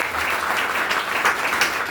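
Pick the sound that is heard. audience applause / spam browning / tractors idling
audience applause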